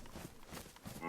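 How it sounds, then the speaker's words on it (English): Cattle in the video game DayZ give a soft, low moo that is faint and drawn out, heard alone at a distance. "Oh, there's cows."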